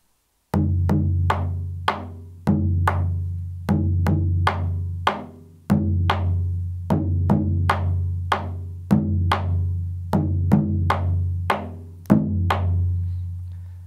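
Deep booming alfaia bass drum strokes interlaced with sharp snare hits in a repeating, steady pattern, played alone and close.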